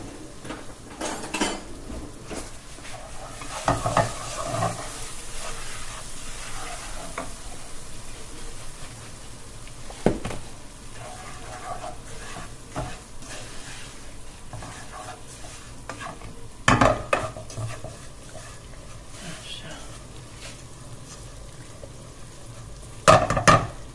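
Dumplings fry in hot oil in a home kitchen, a steady sizzle broken by occasional sharp clinks of a utensil against the pan, with no talking.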